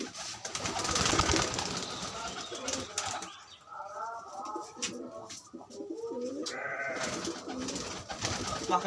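Giriraj pigeons coo in a loft in Rajshahi, a dense chorus of low rolling calls overlapping throughout with some wing flutters and background chatter.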